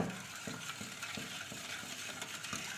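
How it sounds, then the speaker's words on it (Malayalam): A whisk beating palm jaggery into coconut milk in a bowl, producing a quiet, rhythmic swishing and tapping at a steady quick pace. "അതിനുശേഷം നമുക്കൊരു വിസ്ക് വെച്ച് നല്ലതുപോലെ മിക്സ് ചെയ്ത് എടുക്കുക"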